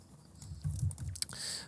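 Keyboard shortcuts are tapped while retouching a studio backdrop in Photoshop, giving a few soft, close key clicks over a low room murmur in a short burst.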